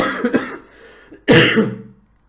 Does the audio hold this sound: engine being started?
no